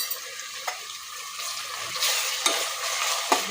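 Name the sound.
ginger garlic paste frying in pan with kasuri methi, chillies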